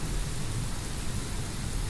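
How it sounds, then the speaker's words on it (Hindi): Steady, dense downpour of heavy rain in Uttar Pradesh with a constant roar and no pauses or voices. "आज हो रही है घनघोर बारिश।"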